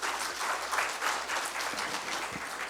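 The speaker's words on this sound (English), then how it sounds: "A big round of applause, Mr. Bansal." Audience applause at the welcoming session of a national management summit, steady dense clapping from a large crowd holding an even level for the whole stretch.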